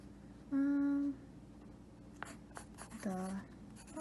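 A pen scratches across paper in short, close strokes, with a brief voiced sound in between.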